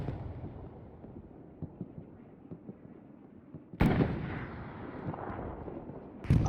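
An Allied artillery gun fires in the World War II video game Hell Let Loose at Carentan: after a low rumble of distant battle, one sharp, loud boom hits, and a second boom lands near the end.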